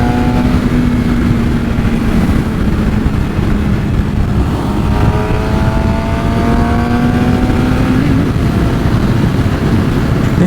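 Motorcycle riding in heavy highway traffic, with a loud continuous engine drone, a shifting tone as it accelerates, and heavy wind rush over the rider's microphone.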